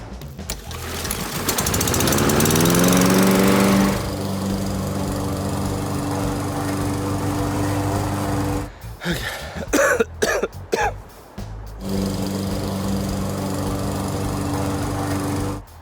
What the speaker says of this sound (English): I got a new mower right there.